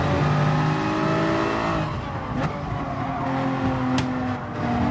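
A Porsche race car engine in GT Sport drones loud and close at steady high revs, its pitch dipping briefly as the gears change, then climbing again, with a couple of sharp clicks along the way.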